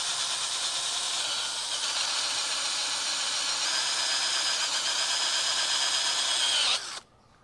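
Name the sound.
drill with sanding pad on gauge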